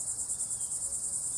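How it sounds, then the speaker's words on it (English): A Florida cicada gives a loud, close, high-pitched buzzing call, shrill and continuous with a fast regular pulsing throb. "cicada call"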